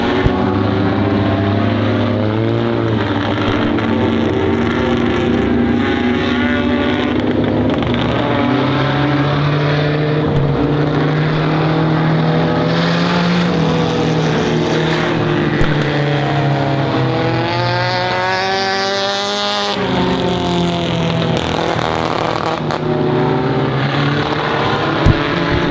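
Race cars lapping at Honor Speedway during a season championship event, a loud, continuous roar of engines with rising and falling pitch as cars pass by.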